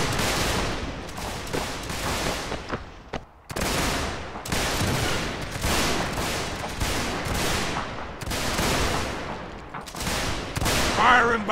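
Musket volleys crack out in a Mount and Blade Warband battle, with repeated loud bursts of massed gunfire in quick succession and brief gaps between them, dense and close.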